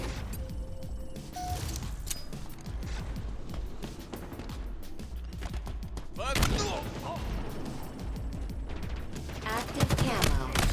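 Rapid gunfire bursts in the Halo Infinite shooter game, with repeated sharp shots and weapon clatter, some heavier blasts near the middle and end, mixed with game announcer speech and background action.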